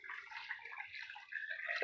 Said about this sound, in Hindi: अब हम इसके अंदर और पानी डालेंगे